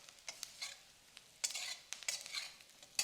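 Quiet scraping and light sizzling as vadis are stirred in masala in a pan, with scattered soft clinks of a utensil against metal.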